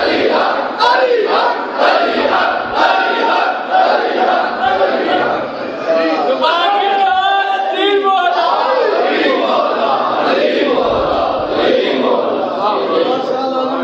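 A large crowd at a Muharram majlis gathering chants religious slogans in loud, rhythmic unison, their voices swelling together in repeated cries.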